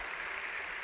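Applause for celebrities from an audience at a keynote event, a dense steady wash of clapping throughout the short moment with no voices over it.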